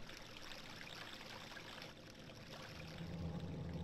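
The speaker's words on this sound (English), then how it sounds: "The water raises. And now once more flows from the cave." Water gushing out of a cave in The Legend of Zelda: Majora's Mask, a steady, dense rush of flowing water that swells a little louder near the end, with no voices.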